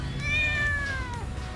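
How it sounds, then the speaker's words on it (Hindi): A single long, clear meow from a nearby cat rises and then falls away, heard alone over a quiet background. "ये बिल्ली है"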